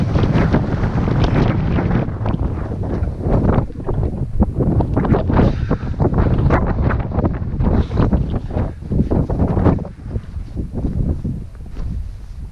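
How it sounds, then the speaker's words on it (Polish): Strong wind on Mount Elbrus, gusting up to 45 km/h along a mountain ridge, roars and buffets the microphone in a continuous, loud rush with no talking. "Dlatego dzisiaj wiatr do 45 km na godzinę. Też mocno."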